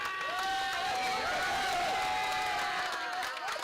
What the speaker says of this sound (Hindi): तो तौफीक सर के लिए भी तालियां बजनी चाहिए भाई